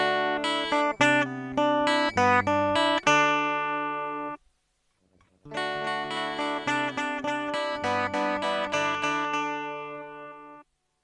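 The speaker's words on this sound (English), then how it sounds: "Acoustically, a simple echo sounds like this." Tonal musical notes with a simple digital echo effect applied, a run of pitched tones, a short near-silent gap, then the same processed sequence again with trailing repeats, clear and moderately loud.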